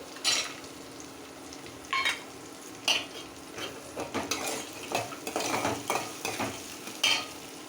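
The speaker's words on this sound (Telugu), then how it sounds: "ఇప్పుడు మనం ముందుగా వేపుకున్న పల్లీలు కూడా ఇప్పుడు వేసేసుకోవచ్చు" Roasted peanuts are stirred into onions frying in a pan, with repeated sharp scrapes and clinks of a metal spoon against the pan over a steady background sizzle, close and fairly loud, with no talking.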